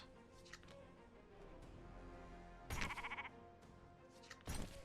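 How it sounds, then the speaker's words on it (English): Sheep in a fantasy strategy card game give short digital bleats, two distinct bursts over quiet background game music, fairly faint overall. "Well, I got sheep."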